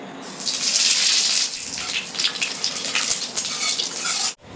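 Water gushes steadily into a pan of spiced oil to make broth for a mourala fish curry with helencha greens, a loud splashing pour that thins into uneven trickles and spatters before cutting off abruptly near the end.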